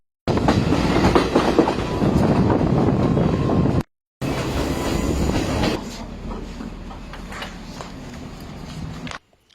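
A train runs on rails near Pattipola station in Sri Lanka's hill country, loud and close with rolling wheel rumble and clatter, a brief break, then fading toward the end.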